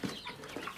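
Chickens pecking at bird feed and mealworms make soft, close clucks in a brief flurry over a busy, noisy backdrop.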